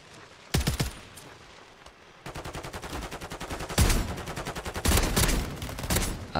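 Gunfire from the video game Warzone, including shotguns, comes in loud bursts: a couple of sharp shots, then rapid repeated volleys with heavy blasts in between.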